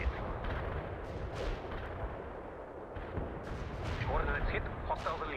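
Artillery barrage explosions in the World in Conflict strategy game: heavy, overlapping booms and rumbling blasts roll on, loud and close, with radio-style voices speaking over the bombardment.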